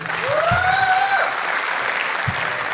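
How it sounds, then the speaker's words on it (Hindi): A burst of audience applause at a poetry recital fills the whole clip, steady and fairly loud, with a whistle-like tone rising through the clapping early on. "एक बार जोरदार तालियां आशिक के लिए"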